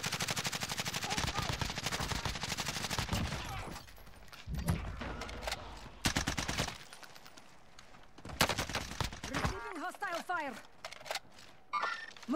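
Call of Duty gunfire, rapid automatic bursts crackling in long dense strings with short gaps, loud and close, broken by brief lulls and a few electronic game effects.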